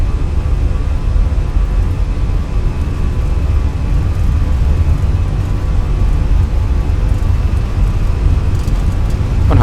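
Airliner engines roar through the takeoff roll as a loud, steady, broadband rumble, constant in level throughout and close-up, with no talk heard over it.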